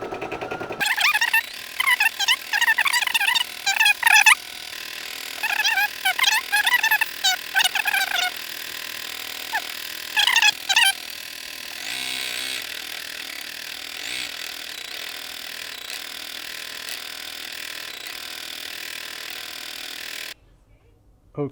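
A Brother SE1900 embroidery machine stitches a design onto a t-shirt with a steady mechanical whirr and rapid needle ratcheting, close by, running continuously for about twenty seconds, with a voice talking over the first half.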